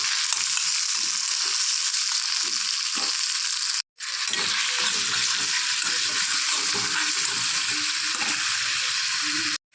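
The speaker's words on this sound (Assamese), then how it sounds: "অকণমান ভাজি ল'ম বন্ধাকবি পিঁয়াজ বিলাহী" Cabbage, onion and tomato fry in refined oil with a loud, steady sizzle that crackles close by, pausing for a moment partway through before carrying on without any talk.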